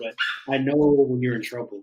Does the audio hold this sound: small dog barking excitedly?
yes